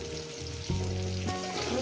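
Pointed gourd and potato pieces fry in a pan with a steady, close sizzle that swells louder partway through and keeps crackling evenly to the end.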